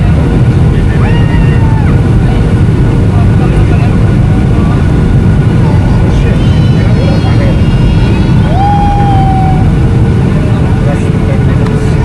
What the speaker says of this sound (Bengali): এবং পৌঁছে গেছি কক্সবাজার, ল্যান্ড করতেছি আস্তে আস্তে